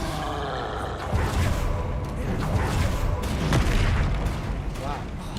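Confringo fire-spell blasts in the Hogwarts Legacy video game, a run of deep booms and rumbling impacts during combat, mixed with game sound and a voice talking over it.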